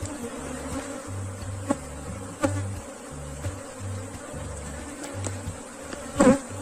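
Africanized honeybees swarm around an open hive box during frame work, a steady close buzzing drone with pulsing low tones and a few louder passes near the end, no voices.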